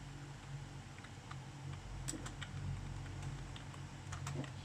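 Computer keyboard keys clicking during a Roblox game session, a soft run of scattered taps and quick bursts over a steady low background hum, with no voices.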